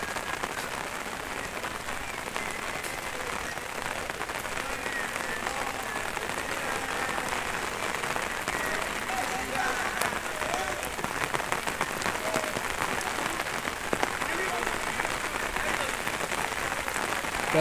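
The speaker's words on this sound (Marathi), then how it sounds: "आता पाऊस चालू झाला" Steady rain pouring at Bhushi Dam in Lonavala, an even hiss of drops on water and surfaces with faint crowd murmur beneath, continuous and fairly loud throughout.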